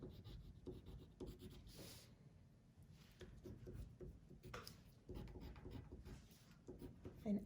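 A colored pencil scratches and rubs across construction paper as someone draws a pumpkin face, making soft, close, irregular strokes at a low level.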